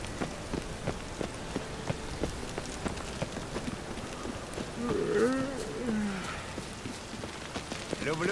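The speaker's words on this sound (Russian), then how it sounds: "Люблю дождь." Steady rain patters across the whole stretch in The Witcher 3, with a low growl and some movement rising briefly in the middle, no talking.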